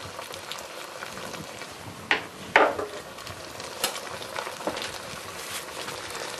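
White wine sauce for osso buco simmers and reduces in a pan, a soft steady bubbling hiss with a few sharp clinks and scrapes of a utensil stirring against the pan.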